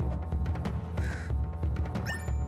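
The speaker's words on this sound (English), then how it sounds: "There's a raven there." A raven in the game Chasm gives a few harsh caws over a steady bed of game music, the calls close and clear.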